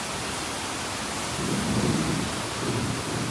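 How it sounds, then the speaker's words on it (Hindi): Heavy unseasonal rain pours down in a continuous, dense hiss, while low rolls of thunder rumble through the middle and again toward the end. No one speaks. "तेज बारिश हो रही है,"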